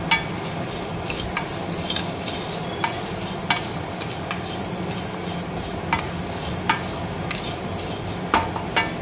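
Sona moong dal is dry-fried and stirred in a pan, a soft continuous sizzle broken by frequent scraping and clinking of a spatula against metal.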